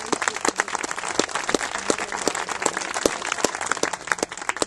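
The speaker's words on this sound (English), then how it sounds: "Let's give her a round of applause." A tented outdoor crowd at a Labor Day 2009 health care reform rally in Colorado Springs breaks into steady, dense applause, with many hands clapping continuously throughout.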